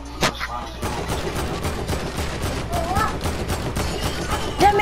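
Gunfire in Fortnite, a dense stream of rapid shots and bursts over busy game noise, fairly loud and continuous, with a few brief sharper cracks.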